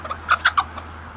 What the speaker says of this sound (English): There's Silver. She's a very pretty bird. And there's the other brown hen